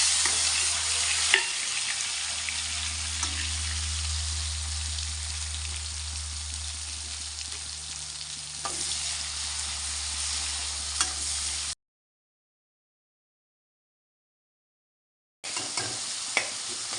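Chopped tomatoes fry in a pan with panch phoron and fish, giving a close, steady sizzle with occasional stirring scrapes over a low hum, then a few seconds of silence before the frying resumes.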